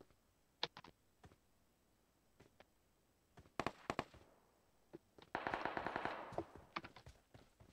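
Gunfire in the PUBG Mobile video game: scattered single shots followed by a rapid burst of automatic fire, fairly faint and distant-sounding, with sharp cracks between quiet gaps.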